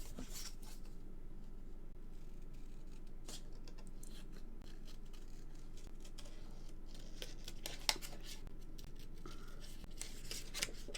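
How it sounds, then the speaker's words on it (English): Scissors fussy cut a small figure out of patterned paper for a mini album card, faint quiet snips and paper rustles scattered irregularly over a low steady background hiss. "I'm going to fussy cut that little fella out"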